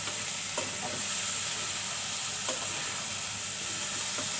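Cinnamon sticks and bay leaves sizzle steadily in hot oil, a dense, even hiss with a few faint soft knocks, close and continuous throughout.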